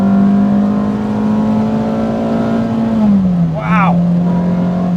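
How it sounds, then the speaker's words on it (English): A Renault Clio 172 Cup's gruff, rumbling engine with an aftermarket exhaust holds a steady drone, dips briefly, then revs back up with a rising growl, loud and close. "Because the engine is gruff, it sounds angry. This particular car's got an aftermarket exhaust on it."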